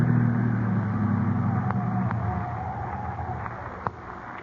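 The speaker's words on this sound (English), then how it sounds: "I'll drive the car off the road." Car engine rumbling steadily as the vehicle drives off the road in a radio drama, a low continuous hum that slowly fades, with a few faint knocks near the end.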